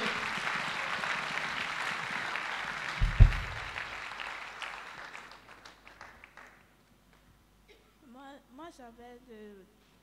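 Church congregation at a deliverance and healing prayer service breaking into loud applause and acclaim, a dense wash of clapping and voices with a sharp thump midway, fading out before a lone voice speaks near the end.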